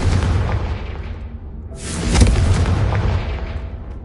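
A Confringo blasting spell in Hogwarts Legacy detonates with a deep boom, and a second loud explosive burst follows midway, each trailing off in a low rumble. The blasts are close and loud, with no voices.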